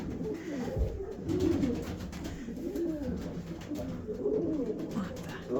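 Soft, low pigeon coos repeat in short rolling phrases, with faint bird chatter and a steady outdoor background.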